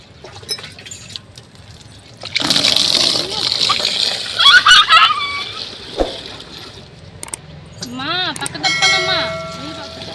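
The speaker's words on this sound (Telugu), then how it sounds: "ముంచుతుంటే కింద పోతాయి నీళ్ళు" Water splashes and sloshes in a bucket as clothes are dipped in to soak during household laundry, a loud burst of splashing under nearby conversation.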